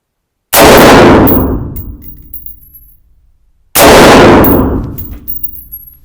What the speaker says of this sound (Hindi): हमने मोड 3 में तुरान के जो मेड इन तुर्की के 2-3 राउंड्स है वो अभी हमने इस पे फायर किया